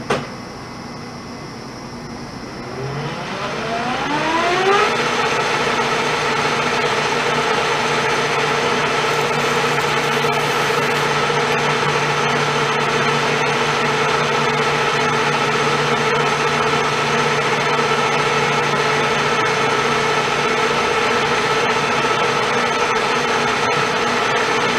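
A machine tool runs steadily on auto feed, its motor rising in pitch over the first few seconds and then holding a loud, constant hum with tonal whine throughout.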